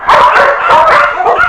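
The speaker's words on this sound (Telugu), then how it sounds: "బజార్లోకి వెళ్తే కుక్కలు వెంట పడతాయి." Several dogs bark and yip in quick bursts, loud and close, as a sound effect in a Telugu comedy film scene.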